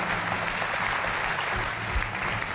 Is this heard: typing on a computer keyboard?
no